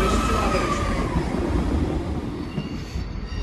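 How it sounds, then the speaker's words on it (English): A train pulls into a platform at Shrewsbury railway station, a close rumbling roll of carriages with thin wheel squeals fading slowly as it slows, with no talking. "Train approaching platform 3"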